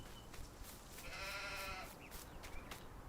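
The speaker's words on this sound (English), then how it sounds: "Look everybody, I've got sheeps." Sheep in the farming game Farming Simulator 19 give a drawn-out bleat in the middle of the clip, set over a steady low background of ambient farm noise with a few fainter calls around it.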